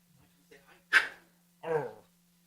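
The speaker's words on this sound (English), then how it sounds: "I have little puppies." Little puppies give two short, faint yips in a quiet room, spaced about half a second apart.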